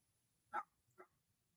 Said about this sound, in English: Sorry about the dog next door